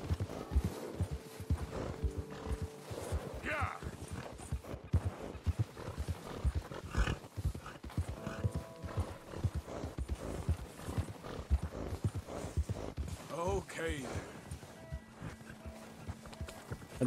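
Horse hooves clip-clop steadily in Red Dead Redemption 2 as a horse moves at an even pace, a faint, continuous rhythmic patter with occasional brief game sounds.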